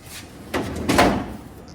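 A drawer on a shop tool box full of pipe fittings slides open in two short, rough rattling scrapes, fairly close and alone.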